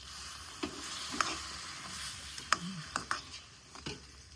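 Semolina (rava) being stirred in a hot pan for a Diwali dish, giving a few scattered scraping clinks and soft sizzles at irregular intervals, fairly faint and with no talking.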